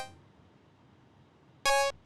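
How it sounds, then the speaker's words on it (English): An unprocessed basic saw wave synth pluck sounds once near the end, short and bright with a rich buzzy harmonic stack, loud and alone after near silence. "So again, basic saw wave."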